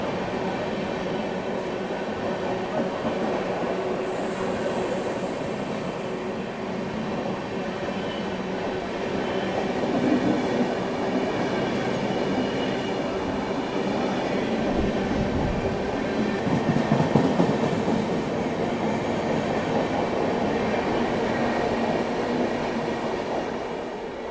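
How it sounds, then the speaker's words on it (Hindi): Howrah Jodhpur Express train passing close by: a steady, loud rumble of rolling coaches with rhythmic wheel clatter for the whole stretch, and a brief high metallic squeal near the end. "तो ये थी हावड़ा जोधपुर एक्सप्रेस और ये सिर्फ 1 घंटे लेट चल रही है।"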